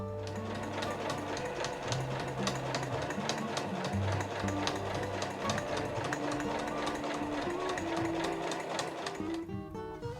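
A sewing machine stitches the seams of a fur tote bag, running in a steady, fast mechanical chatter that carries on close and loud for nearly the whole stretch before stopping near the end.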